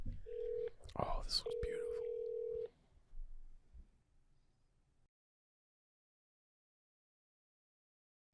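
A telephone dials a resort in Puerto Vallarta, Mexico: a steady tone sounds, breaks briefly, then continues under a short spoken remark before fading out to silence.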